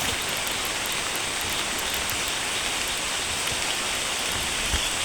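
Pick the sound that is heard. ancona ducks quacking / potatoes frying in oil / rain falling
rain falling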